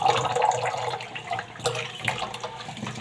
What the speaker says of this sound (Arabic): دلوقتي هنغسل العدس مره واتنين ونصفيه من الميه